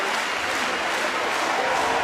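Crowd at a handball world championship final medal ceremony cheering and applauding, a dense steady wash of claps and voices from a large arena.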